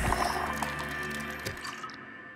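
A drink of disinfected water in Subnautica, a short liquid gulp and slosh over steady game ambience with a droning tone, fading out near the end.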